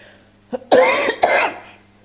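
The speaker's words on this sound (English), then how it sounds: "Oh, you know this cough." A single short cough followed by a longer, harsh fit of coughing with a second spasm, close and loud, with no talking.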